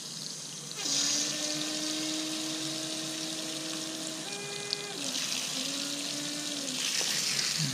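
Water rushes steadily from opened faucets and pipes as a plumbing system in Tempe, Arizona is drained, a constant hiss with whistling, squealing tones from the pipes shifting pitch partway through.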